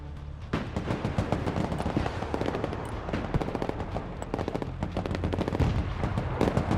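Rapid bursts of automatic gunfire and sharp shots crackle continuously in the military video game Broken Arrow, dense and loud with no pauses.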